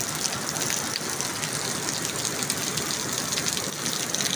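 Dense, steady hiss of heavy rain pouring down in Haripur, Pakistan, constant and loud throughout with no pauses.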